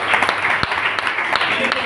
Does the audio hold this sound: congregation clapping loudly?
yes